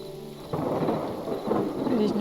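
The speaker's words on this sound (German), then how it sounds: "Es regnet" Rain and a thunder rumble in the video game Hytale, a steady wash of rainfall with a low roll of thunder swelling midway, fairly close and alone with no talk.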